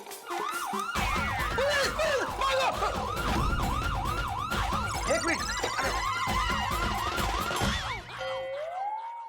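A police siren wails loudly in rapid repeating cycles, close by, with a brief voice speaking under it before it winds down.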